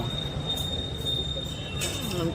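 Train at a railway station, a steady rumbling body of rail noise with a faint high squeal running throughout, a brief brighter burst near the end, and no clear speech.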